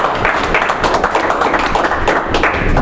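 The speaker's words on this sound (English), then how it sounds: "Give a round of applause for Cheyenne." An audience applauds a presenter named Cheyenne at the close of a presentation, giving dense, fairly loud clapping that runs steadily throughout, with faint voices mixed in.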